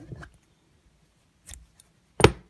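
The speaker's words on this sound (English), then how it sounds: "Pull it tight and we can cut it." Scissors snip through crochet yarn at the end of an amigurumi bat, giving a few small, close, quiet clicks with one sharper cut near the end, surrounded by near silence.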